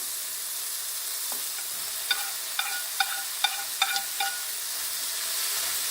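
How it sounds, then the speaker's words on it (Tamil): Peas and spinach sautéing in a pan, seasoned with salt and pepper: a steady soft sizzle, broken by several light clinks of a utensil stirring against the pan. "இதுவும் நல்லா வதங்கி வரட்டும்"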